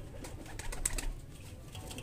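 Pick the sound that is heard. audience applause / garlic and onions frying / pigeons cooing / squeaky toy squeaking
pigeons cooing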